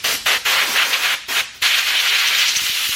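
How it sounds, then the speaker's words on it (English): Compressed air blasts around a car's fuel pump hanger to clear dirt, a loud broadband hiss in several short bursts before a sustained steady rush, with no talking. "I'm going to take and blow off around the fuel pump hat really good, or where the fuel pump hanger comes out"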